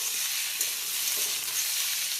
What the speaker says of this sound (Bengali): সবজি একটু নেড়ে চেড়ে নেওয়া হচ্ছে।